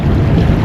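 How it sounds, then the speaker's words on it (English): Gusty wind blows across Australia's rugged coast by a sailboat, a loud, continuous low rumble of buffeting against the microphone for under a second, with no voices. "It's also windy, which is not a good combination."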